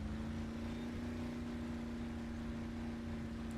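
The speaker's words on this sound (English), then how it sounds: "let's do a little highway driving here" Steady engine drone of a Jeep CJ7 Renegade cruising on a highway in MudRunner, a constant low hum with no breaks and no talking.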